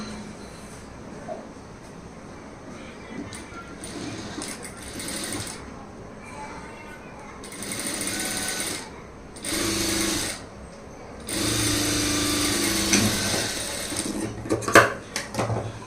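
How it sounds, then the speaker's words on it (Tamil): A sewing machine stitches a sleeve for Aari work in a series of steady buzzing runs, growing longer and louder toward the end, with small clinks of metal handling in between. "அதே மாதிரி அந்த பக்கம் இருந்து தையல் போட ஆரம்பிச்சிடலாம்."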